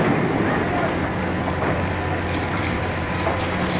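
Strong wind roars steadily and loudly across the microphone at a fire in Tagig City, a constant rushing noise with no pauses.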